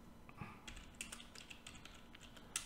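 Quiet keystrokes on a computer keyboard, a soft irregular patter of taps with a couple of slightly louder clicks, close and alone without talk.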